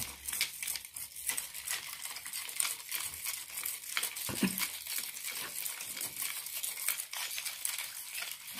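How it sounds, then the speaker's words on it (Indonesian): Alum floor-cleaner solution being stirred until it dissolves, a continuous soft swishing and light scraping in a container, close and fairly quiet. "kita aduk terus. Ini aduk saja sampai dia benar-benar larut"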